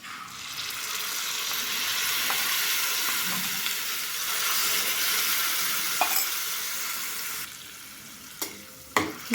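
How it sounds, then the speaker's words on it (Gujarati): Curd poured into a hot tempering for Kathiyawadi dahi tikhari sets off a loud, steady, hissing sizzle that holds for several seconds, then thins out near the end, with a few sharp utensil clicks. "દહીં એડ કરી દેવાનું છે વઘારમાં"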